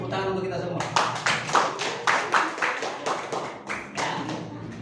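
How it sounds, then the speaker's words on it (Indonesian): A class claps hands together in a ragged group, bursts of clapping rising and falling in loose waves, with voices talking over and between the claps. "Tepuk tangan untuk kita semua."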